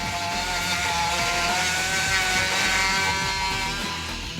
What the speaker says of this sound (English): I need to remove the slag with a die grinder using a carbide bit